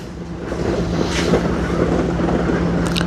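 A Hookii Neomow X Pro robot lawn mower running outdoors as a steady, close motor drone with a low hum and some wind rush, no voices over it.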